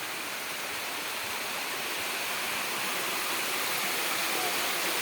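Mountain-fed water flows freely into a natural six-foot pool at a farm, a constant rushing hiss like a small waterfall, steady and close with no voices.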